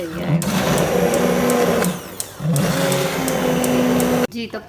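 A hand blender whirs steadily while blending boiled spinach in a cooking pot for palak gosht, a loud continuous motor drone with a brief dip partway through before cutting off near the end.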